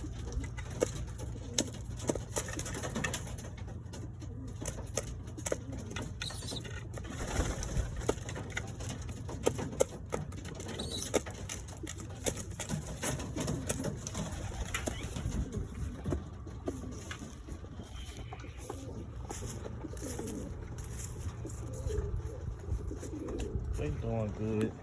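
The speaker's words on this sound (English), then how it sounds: "Them young birds right there." Young pigeons or doves coo softly and repeatedly in a backyard loft, close by, with someone talking over them and faint rustling and tapping in the background.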